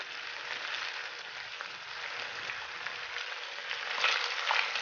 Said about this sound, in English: I'm still allowing them to cook slowly on low heat